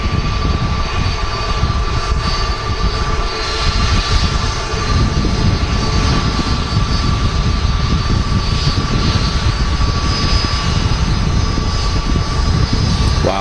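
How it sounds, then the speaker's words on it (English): A Turkish Airlines Airbus A330-300 arriving at Manchester Airport gives a loud, sustained roar of jet engines with a steady whine, constant and close throughout. "Today flying the Airbus A330"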